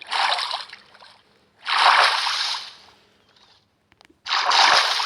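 Splash landings in water in the Minecraft video game, three loud watery splashes with brief sloshing, separated by near-silent gaps.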